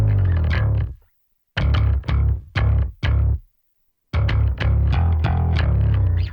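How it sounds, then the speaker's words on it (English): Three layered basses summed on one bass bus play a dense, heavy line of repeated punchy notes with a few silent pauses between phrases, loud and full with a gritty, processed edge and no talk. "And all 3 together sound like this"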